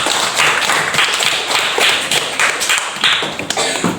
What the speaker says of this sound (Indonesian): Tepuk tangan dulu untuk Enda.